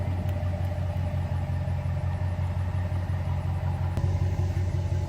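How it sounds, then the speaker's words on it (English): A truck engine idling and rumbling steadily while reversing, a constant low drone close by, with a couple of faint clicks and no voices. "My son's backing the truck up."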